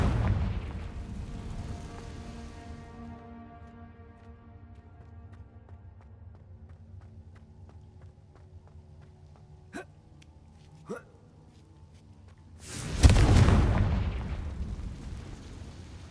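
A Confringo blasting spell explosion in the Hogwarts Legacy video game, a single loud burst late on after a quiet stretch with faint music and a couple of sharp clicks.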